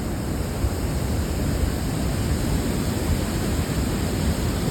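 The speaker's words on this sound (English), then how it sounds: "you can still hear the hydro plant working over there" Steady, dense rushing roar of water churning through a hydroelectric plant, constant and broadband with no breaks, heard from a moderate distance.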